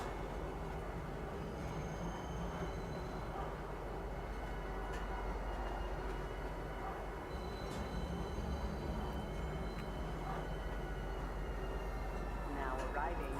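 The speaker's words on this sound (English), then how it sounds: "Now arriving, Pizza Spaceport. Please watch your step when disembarking the train." A train pulls into a spaceport station in the video game Star Citizen, a steady low rumble and rolling clatter with faint squeals, while a station announcement voice speaks over it throughout.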